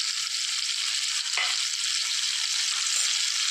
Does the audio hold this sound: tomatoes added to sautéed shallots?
yes